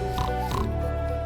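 A pig oinks in a children's educational piece on prehistoric domesticated animals, two short nasal grunts close together and fairly loud, with a steady tonal hum continuing underneath.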